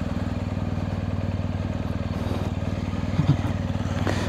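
A BMW GS Adventure motorcycle creeps along slowly on the clutch without throttle, its engine giving a steady, even low thumping pulse throughout, close and fairly quiet.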